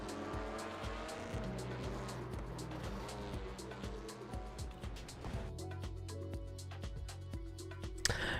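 Porsche race cars in the iRacing sim, one spinning out, with steady engine drone layered over a dense field of cars, tire squeal through the spin, and a brief sharp hit near the end; faint talk may sit underneath.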